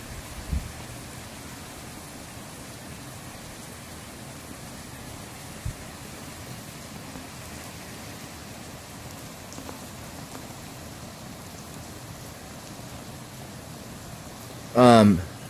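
Steady, heavy rain falls through a strong Northern California storm with very strong winds at night, a constant hiss with a couple of faint knocks and a short loud burst near the end.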